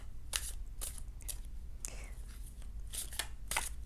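Soft, matte tarot cards are shuffled by hand in several quick, crisp papery bursts separated by short pauses, close and fairly clear.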